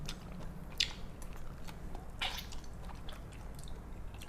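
Close, wet chewing and biting of soy sauce marinated shrimp, with soft squishy crunches repeating steadily over a low room hum and no talking.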